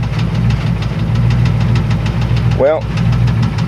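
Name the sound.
1994 Chevrolet Astro van engine running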